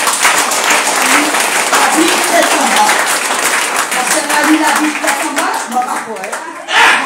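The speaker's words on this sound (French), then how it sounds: "Acclame très fort." A church congregation at a Sunday service claps and cheers loudly, a dense sustained roar of applause that continues for several seconds, with voices mixed into the crowd noise.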